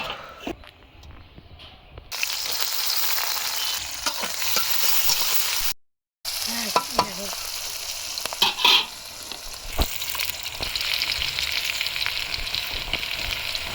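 Meat frying and being stirred in a pan in a Bangladeshi home kitchen, a steady close sizzle with scraping stir strokes and a brief gap partway through.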